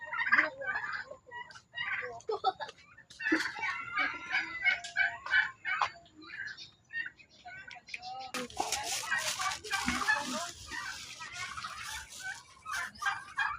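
Domestic turkeys gobble repeatedly during morning feeding in their pen, with several birds calling in bursts and a louder cluster of gobbling and flapping toward the end, while a person talks over them.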